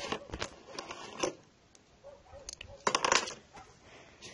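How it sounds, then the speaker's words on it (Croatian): Keys clinking and jingling in a garage beside a scooter and old bikes, a few quiet bursts of light metallic rattling with pauses between them, close by. "Tu su ključevi."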